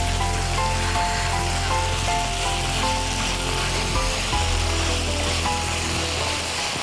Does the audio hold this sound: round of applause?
no